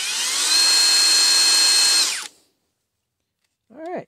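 A HOTO 12V brushless cordless drill whirs steadily for about two seconds, then winds down and stops, followed by a brief short burst of higher whine.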